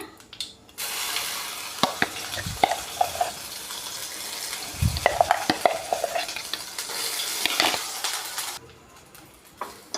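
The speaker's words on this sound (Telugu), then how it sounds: "కొంచెం సేపు వేపుకుందామండి ఇది ఒక ఐదు నిమిషాలు వేగనివ్వాలి" Ground masala paste frying in hot oil for paneer curry, a loud hissing sizzle with repeated stirring scrapes and low bubbling bursts, fading abruptly near the end.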